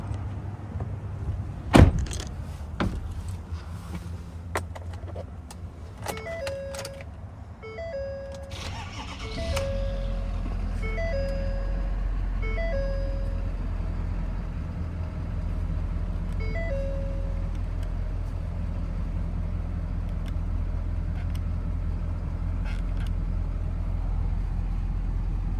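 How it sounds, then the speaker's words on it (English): A 2014 Ford F-250 Lariat 4x4 lifted pickup with a 6.7 Power Stroke diesel, heard with door and electronic chimes and clicks, then the engine cranking and catching, settling into a steady, loud low diesel idle close by. "We'll go ahead and start this truck up."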